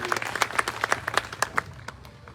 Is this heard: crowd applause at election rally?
yes